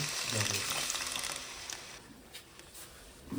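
Ground onion paste frying in a generous pour of hot sunflower oil for a chicken dish, a dense, steady sizzle that is loud at first and then settles to a softer hiss, close up.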